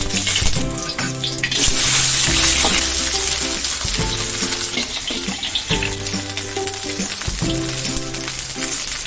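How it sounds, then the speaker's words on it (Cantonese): Snakehead fish fries in a hot pan with a steady, loud sizzle. Repeated low tonal bursts and clinks of cookware punctuate it, with no voices. "我哋唔使煎到金黃色"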